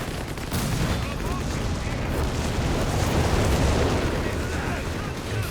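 Whizbang rocket artillery and tank gunfire from a Company of Heroes 3 battle with Panzer IV tanks, a dense continuous roar of blasts and rumbling impacts, loud throughout after a quiet first half-second.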